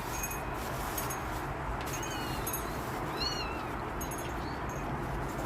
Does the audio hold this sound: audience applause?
no